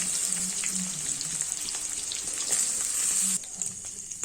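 Paneer cubes fry in hot oil with a soft, steady sizzle and light crackling pops, quiet and close, with occasional stirring clinks.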